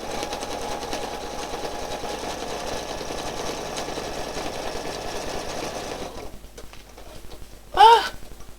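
Sewing machine doing free motion stitching as its bobbin thread runs low, a steady close mechanical buzz that stops near the end and is followed by a short voiced exclamation.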